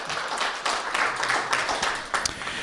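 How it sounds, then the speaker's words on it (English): A panel audience applauds a speaker, with a short burst of scattered clapping from many hands in a room, fairly close and steady, with faint voices underneath. "Could you give Abigail a round of applause"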